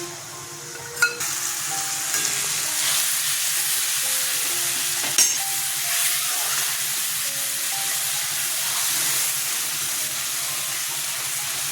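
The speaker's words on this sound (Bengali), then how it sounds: "শুকনো লঙ্কা জিরে ধনের পেস্ট ছেড়ে দিচ্ছি" A paste of dried red chilli, cumin and coriander hits hot oil in a pan, giving a loud, continuous frying hiss with a couple of sharp clatters and stirring scrapes.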